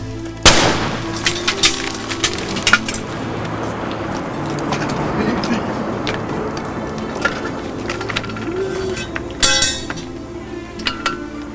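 A sharp gunshot rings out near the start, followed by scattered cracks, clinks and a second burst of impacts later, over a steady low background rumble in a staged military fire drill on a television programme.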